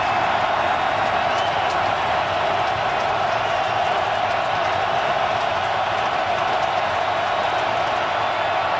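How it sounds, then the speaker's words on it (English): Football stadium crowd roaring steadily at an AFC divisional playoff game between Indianapolis and Baltimore, a dense, loud wash of cheering that holds without a break for about nine seconds. "2nd and 19, and the crowd is back into it."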